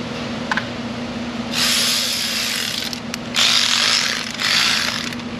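A quarter-inch ratchet snugging down 8mm bolts on a Ford 5.0 Coyote engine gives several close bursts of rapid metallic clicking, separated by short pauses over a steady low hum.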